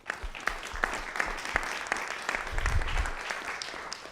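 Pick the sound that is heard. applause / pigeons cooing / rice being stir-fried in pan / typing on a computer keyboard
applause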